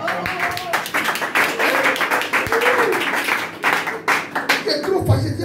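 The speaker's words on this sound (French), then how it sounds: "Donne-moi une bonne acclamation." A church congregation breaks into loud, lively applause and cheering acclamation, dense clapping with shouting voices throughout, ending in a few heavier taps.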